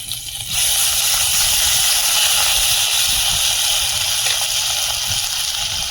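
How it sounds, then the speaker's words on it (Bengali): Potatoes and drumstick pieces fry in hot oil for a Bengali sukto, producing a loud, steady, close hiss that swells in after a moment and holds evenly, with no voices. "আলু আর সজনে ডানাটা আগে একটু ভেজে নেব"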